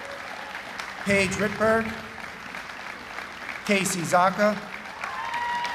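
Applause from the audience at the Mattituck High School Class of 2025 graduation ceremony, a steady wash of clapping running under a speaker who reads out graduates' names over a PA.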